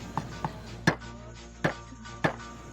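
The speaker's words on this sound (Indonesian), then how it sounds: "Kira-kira Mbak Arjati bisa kan geprak ini menggunakan yang gede" Five dull, heavy thuds of a large pestle smashing tomatoes, spaced irregularly, close by over a quiet background with no talking.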